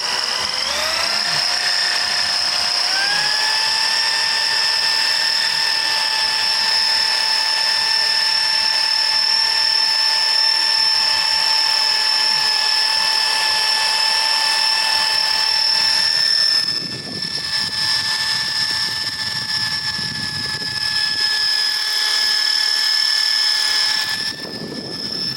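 Power drill boring a hole into an engine oil pan during an LS engine swap on a BMW E30, a steady high whine with stacked tones that rise in pitch early, then dip and waver near the end as the bit bites.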